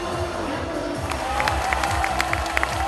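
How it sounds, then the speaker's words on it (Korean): A crowd cheers and applauds at a political party rally for the 2018 local elections: a thick roar of voices with clapping, broken by sharp, loud bursts of cheering and whistles toward the end, and no clear speech. "다시 한번 함성과 격려의 박수 부탁드리겠습니다."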